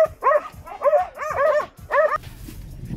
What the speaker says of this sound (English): These dogs are something else.